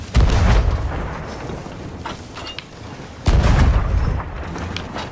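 Cannon fire in a pirate-ship video game: two deep, loud booms a few seconds apart, each followed by a rumbling tail with scattered crackle, and no talking.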